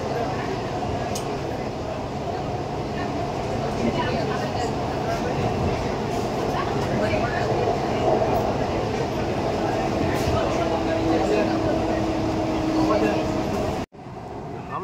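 A Howrah underwater metro train running through the tunnel beneath the Ganga, a steady loud rumble and whine of wheels and motors throughout, cutting off abruptly near the end; no talk is heard over it.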